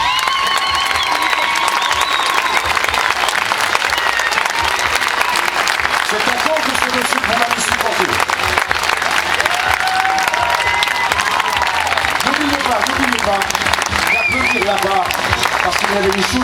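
Audience applause at the finale of a rodeo show, a dense, loud and continuous clapping from a large crowd with scattered cheers and voices mixed in throughout.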